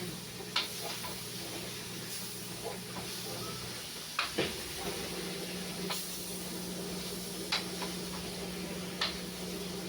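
Peppers hit a full stir-fry pan and crisp up, giving a steady hiss and sizzle with scattered sharp pops and ticks throughout.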